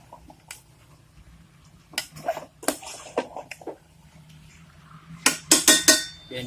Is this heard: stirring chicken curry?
yes